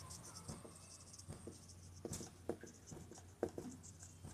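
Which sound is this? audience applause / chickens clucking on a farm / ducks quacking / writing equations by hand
writing equations by hand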